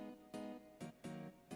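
A Rhodes electric piano sample played on M1 keys sounds a short classic-house chord stab pattern, warm sustained tones repeating in a syncopated rhythm, close and alone.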